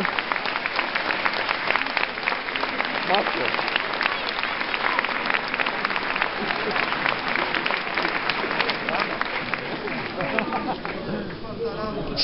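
A stadium crowd applauds and cheers steadily as a football player returning from injury is presented at a Widzew team presentation, a dense wash of clapping with murmuring voices throughout.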